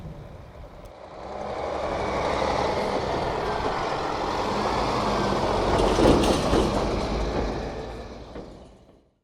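A heavy lorry engine rumbles and grows louder as it drives in through a gateway into a field, then fades away, with a brief hiss midway; no talking.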